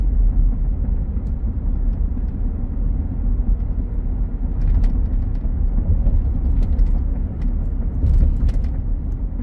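A 2020 Ford F-150 XL STX 2WD pickup with a 2.7L V6 driving along, a steady low cabin rumble of engine and road noise with faint clicks, heard from inside.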